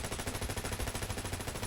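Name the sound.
Warlord rifle firing from the hip, Borderlands 3 video game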